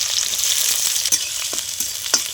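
Chopped onions go into hot oil in a wok with dried red chillies, cinnamon and cardamom for chicken patiala, producing a loud steady sizzle broken by several scraping stir strokes.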